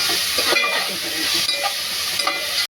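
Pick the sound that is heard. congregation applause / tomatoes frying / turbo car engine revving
tomatoes frying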